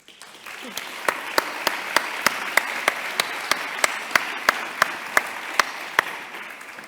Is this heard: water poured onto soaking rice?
no